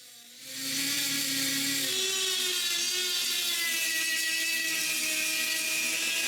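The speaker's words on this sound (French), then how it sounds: "à passer une brosse de laiton partout sa sculpture" A brass wire brush scrubs over a carved wooden Canada goose clamped in a vise, giving a steady, close, bright scratching hiss that starts abruptly and continues without a break, with a high tonal whine underneath and no talking.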